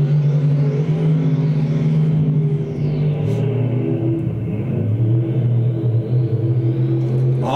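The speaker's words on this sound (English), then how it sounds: "Austin Charles one more time around the speedway is all he needs to pick up a heat race win here at number 2" Race cars in a speedway heat race roar past in a continuous loud engine drone that swells and fades as they circle the track.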